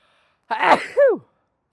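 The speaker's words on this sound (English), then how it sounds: "gotta sneeze." A single sneeze: a sharp breathy burst followed by a brief voiced tail, alone in quiet surroundings.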